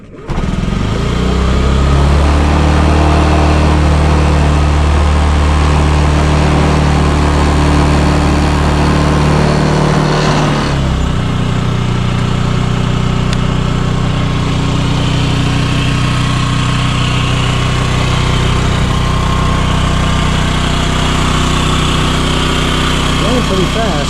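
Rough-running Honda Metropolitan scooter engine revving and idling up close, a loud continuous buzzing drone that dips and shifts in pitch partway through, running steadily for the whole stretch.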